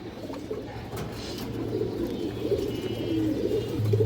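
Green-necked pigeons coo in low, rolling bursts that continue steadily, with a soft, constant background hum beneath them.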